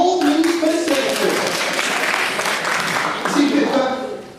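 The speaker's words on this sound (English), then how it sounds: "you were applauding mediocrity there" An audience claps at a TEDx motivational talk; the dense applause swells through the middle and fades, with voices talking and laughing over it.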